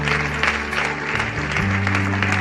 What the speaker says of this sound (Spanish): Iglesia, vamos a dar un aplauso al Señor por estas personas.